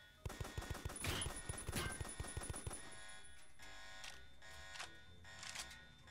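Rapid bursts of video-game gunfire crackle in a dense, close volley, then thin into scattered shots and softer echoing pops during a Halloween event match.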